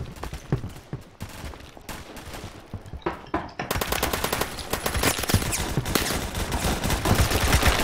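M16 rifle gunfire in a Roblox video game: scattered single shots at first, then a sustained loud burst of rapid automatic fire that runs to the end.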